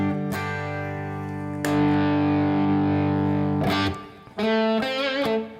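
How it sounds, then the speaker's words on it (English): Electric guitar played through a Klon overdrive pedal on its clean setting, with sustained ringing chords struck in sequence, then a few quicker strums, loud and alone. "That's my clean sound, right, with the clon on it."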